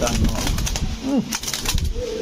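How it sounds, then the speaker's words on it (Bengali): A female Jabra Silver pigeon coos once in a short, soft rolling call amid cage rustling and background bustle, with nearby voices murmuring. "জাবরা সিলভার পাখি মাদি"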